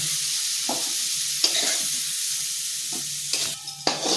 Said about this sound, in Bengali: দেখুন সজনের ডাঁটাগুলো বেশ লাল করে ভেজে নিয়েছি, এটাকে একটু ভাজলাম।